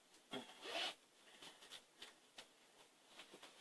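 A pocket zipper on a sewn item with nested pockets is pulled open in one quick, faint rasp early on, followed by soft scattered rubbing and handling sounds.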